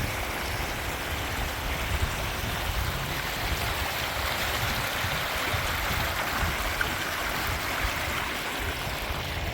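Steady rushing water flows continuously down granite rock, a close, dense wash of sound with no voices.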